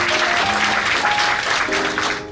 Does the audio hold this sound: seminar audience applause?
yes